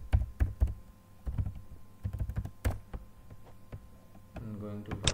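Keystrokes on a computer keyboard come in quick clusters of crisp taps with short pauses, close and fairly quiet, as someone types a search query; a voice speaks briefly near the end.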